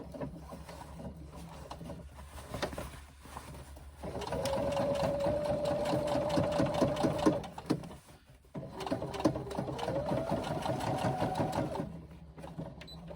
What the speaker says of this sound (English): I'm just going to do a top stitch down along that seam